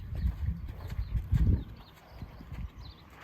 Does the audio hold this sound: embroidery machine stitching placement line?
no